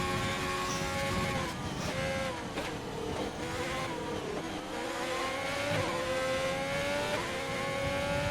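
An F1 race car engine from a video game, heard at the France round as the car enters the pits: a loud, steady engine whine with layered tones that dip and climb in pitch several times, continuous throughout with no talking.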